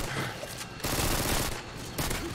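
TMP machine pistol fire in Modern Warfare 2, dense bursts of rapid automatic shots running through the whole stretch, loud and close, with a harder burst in the middle.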